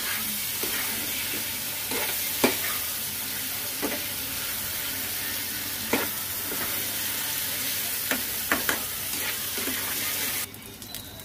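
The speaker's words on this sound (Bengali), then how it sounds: "আলুগুলো দিয়ে দেবো এর মধ্যে, দিয়ে আবার ভালো করে কষে নেব।" Chunks of potato stir-fried with boneless meat in a pan, giving a constant close sizzle broken by scattered spatula scrapes and clacks, with a brief change in tone near the end.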